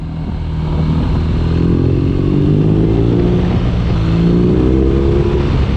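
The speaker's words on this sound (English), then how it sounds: "obviously it's still a boxer, not a V-twin or parallel twin, but hey, I still like that sound" BMW R nineT boxer-twin motorcycle with an aftermarket muffler, revving loudly and close: a deep, continuous engine roar rising and falling in pitch over several seconds, with no voices.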